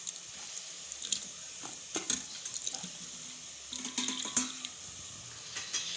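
Water is poured onto browned onions in a cooking pot while making chikar cholay, with intermittent sizzling splashes and clinks of a utensil against the pot, close and fairly quiet.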